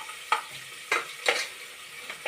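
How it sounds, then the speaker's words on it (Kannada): Onions and a bay leaf fry in a pan for homemade soya bean pulao, giving a soft steady sizzle broken by a few sharp scraping stir strokes, close and alone without talk. "ಇವಾಗ ಹಾಕಿ ಚೆನ್ನಾಗಿ ಫ್ರೈ ಮಾಡ್ತಾಯಿದ್ದಾರೆ ನಮ್ಮ ಮನೆಯವರು"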